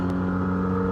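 A Honda FK7 TCR touring race car from Halda Motorsport drones steadily at the Nürburgring 12-hour endurance race, a loud sustained engine tone without pauses.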